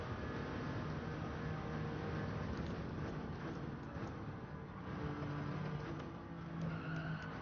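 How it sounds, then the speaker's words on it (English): Tires spinning and skidding during a Gran Turismo 7 lap attack at Circuit de la Sarthe: a steady, loud engine roar with a squealing, scrubbing tire sound running under it the whole time, and no voices. "Did y'all hear the tire spinning?"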